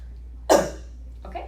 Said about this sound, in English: Okay, so you're able to cough.